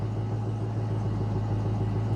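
A Chrysler 300 SRT8 engine idles while warming up, a steady low rumble with an even hum throughout and no talking.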